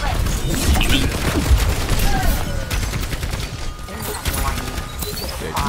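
Gunfire in the shooter game Overwatch 2, dense rapid volleys of shots with mechanical clatter that run almost without a break, loud and near, while a player talks over them.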